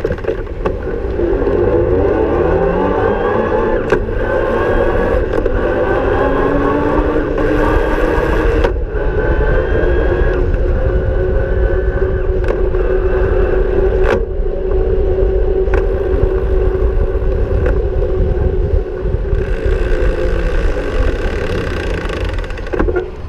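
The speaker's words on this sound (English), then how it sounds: "listen to some of the noises that it makes as I shift along" A Rohloff E-14 electronic internally geared hub on a Bosch ebike shifts up through its gears while riding. Several sharp clicks land a few seconds apart over steady, loud road and wind rumble.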